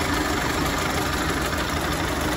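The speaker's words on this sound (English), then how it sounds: "it's just got a nice sound with the engine, runs great." A 1930 Ford Model A Tudor Sedan engine idles steadily up close, a continuous rough, even rumble with no voices.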